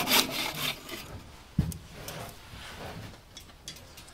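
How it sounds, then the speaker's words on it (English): A Japanese pull saw cutting through wood, heard as soft rasping strokes with a sharp knock partway through, fairly quiet and close with no voices. "I love these Japanese pull saws. They cut so fast."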